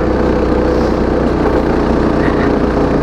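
A mini bike engine on a nitrous oxide shot roars loudly and steadily at high revs, giving a continuous dense buzz with no pauses.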